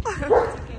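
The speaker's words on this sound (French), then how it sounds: "C'est le chien du président." A small dog barks and yips at the White House, a short sharp bark near the mic with people talking around it.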